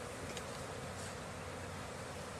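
Honeybees buzz during a late-winter hive inspection, a dense, constant drone of many insects filling the air at steady loudness with no voices.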